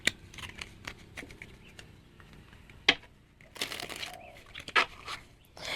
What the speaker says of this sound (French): Je vais mettre quelques cartes dessus.